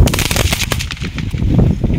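Firecrackers set off at home burst in a loud, rapid crackling series of sharp pops that runs without a break for about two seconds.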